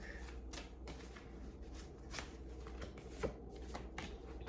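A deck of cards is shuffled and handled up close, brisk riffling bursts and soft flicks in quick succession over a low hum.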